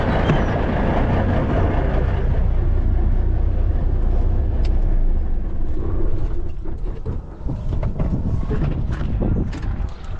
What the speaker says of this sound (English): let me go turn my truck off because it's super loud